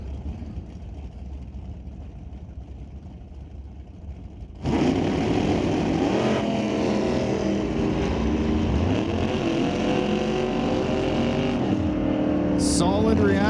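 Drag race cars launch off the starting line at an NHRA Canadian Sportsnationals qualifying round, a bright blue 1972 Duster beside a Camaro; low idling gives way to a sudden loud engine roar that holds steady, with a commentator talking over it.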